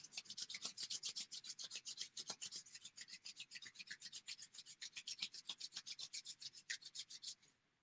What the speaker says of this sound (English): you can start to rub your hands together energetically to create